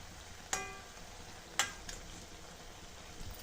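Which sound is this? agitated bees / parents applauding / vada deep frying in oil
vada deep frying in oil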